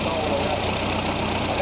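A car engine runs steadily with the throttle raised, a continuous mid-pitched drone that holds level for the whole moment, close by, with no talk over it.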